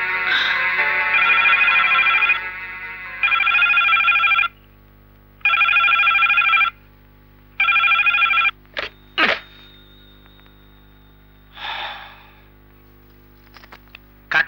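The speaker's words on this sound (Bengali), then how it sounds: "কাকে ফোন করছিস অনিককে" A telephone rings in repeated bursts of bell tones with short silent gaps between them, close and loud, and a few clicks and soft noises follow once the ringing stops. No one speaks.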